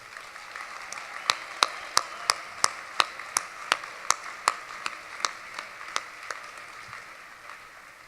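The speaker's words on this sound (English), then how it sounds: "Please stand and receive our applause." A sparse, slow round of applause at an award ceremony during an annual school conference: a few distinct claps ring out one after another in a steady rhythm, fading out toward the end over a quiet room.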